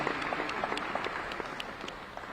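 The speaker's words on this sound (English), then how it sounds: "Please give them a warm round of applause for being here this afternoon." Audience applause at an Alabama A&M press conference: steady, dense clapping from a seated crowd, fairly distant and even in level, continuing throughout without any voices on top.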